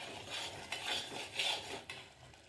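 A spoon stirring peanuts through an oily cooking masala in a pan, soft scraping strokes repeating in a few slow passes, close and fairly quiet with no talk.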